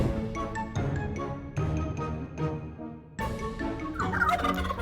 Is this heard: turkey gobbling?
yes